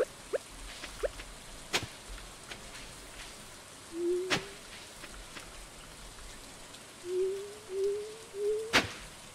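Rain falling in the Stardew Valley video game, a soft steady patter under sparse sharp clicks and a few short rising chirps.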